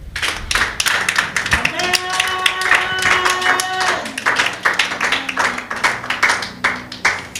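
A church congregation claps in steady rhythm to acclaim God during a worship service, with a voice speaking and a sustained tone over the clapping.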